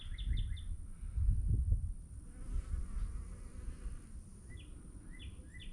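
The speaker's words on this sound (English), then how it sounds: "Oh, see some honeybees out." Honeybees buzzing outdoors in a garden early in the year, a low, steady hum close by, with bird chirps in the background at the start and end.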